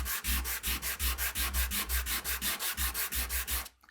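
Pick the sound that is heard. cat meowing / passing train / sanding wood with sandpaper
sanding wood with sandpaper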